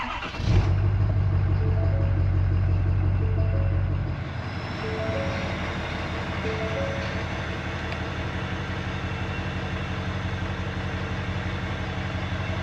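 A Ford F250 truck engine cranks and fires, roars briefly at higher revs, then settles into a steady, even idle that runs on alone.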